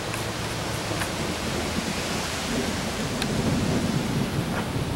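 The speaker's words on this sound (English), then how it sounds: "I think we're getting a little deeper into the center of the storm." Thunder rumbles low and continuous under a dense wash of rain and wind during a windy summer thunderstorm, loud and enveloping with no voices.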